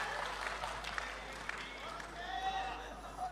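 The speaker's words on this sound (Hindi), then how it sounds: "तालियां बजनी चाहिए" Faint audience clapping at a Hindi comic poetry gathering (hasya kavi sammelan), a loose patter of hands heard under talking from the stage.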